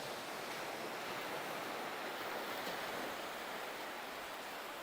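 Ocean waves breaking near wave breakers on a secluded surfer beach in Wakayama at sunset: a steady, loud broadband wash of surf with wind, continuous and close.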